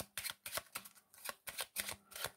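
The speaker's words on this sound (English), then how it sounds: "Give them the deck to shuffle." A deck of playing cards shuffled by hand for a card trick, a run of quick riffling bursts repeating in a steady rhythm, close and fairly quiet with no talking.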